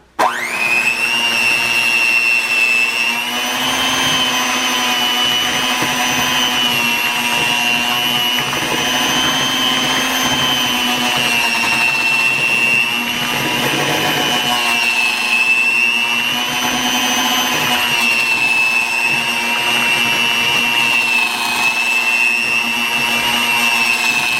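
An electric mixer creams room-temperature butter with sugar, a loud, steady motor whine with a constant pitch that runs without a break for the whole stretch, close and alone.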